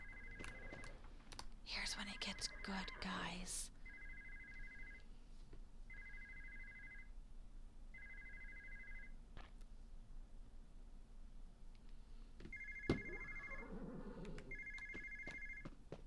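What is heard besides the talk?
telephone ringing in video game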